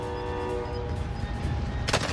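A sustained train horn blares steadily in the Warzone video game, droning loud over rumbling rail noise before a sharp burst at the end.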